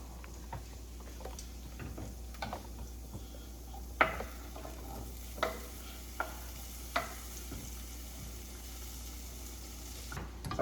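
Chicken gnocchi bubbles and sizzles quietly in a hot pan, a soft steady frying hiss with occasional clicks and light taps from utensils against the pan.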